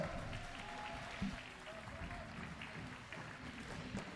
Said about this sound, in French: Applaudissements pour Nolan!